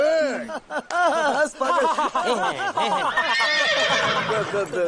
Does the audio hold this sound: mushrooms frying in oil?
no